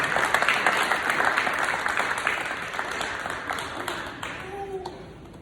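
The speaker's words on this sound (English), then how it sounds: "So can y'all clap it up for Yusuf Williams Jr." Audience applause fills a middle school leadership ceremony, steady dense clapping from a seated crowd that gradually thins toward the end, with a few voices rising faintly underneath.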